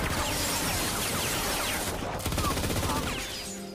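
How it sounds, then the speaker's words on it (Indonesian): A brutal gunfire barrage in an Asian action film, a dense, continuous rattle of rapid shots and crashes, loud and close, easing slightly toward the end. "Caleb malah diberondong oleh anak buah Victor dengan sangat brutal."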